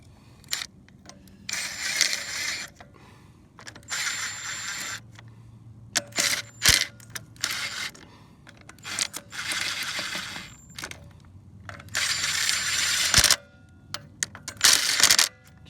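Ratchet wrench turning a 9/16 bolt on the front axle of a 1976 Jeep CJ5, heard as repeated bursts of quick clicking separated by short pauses, fairly close, with no talking.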